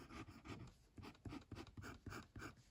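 A Vazir Sport round top fountain pen nib scratches across paper in quick rhythmic strokes, very faint and close.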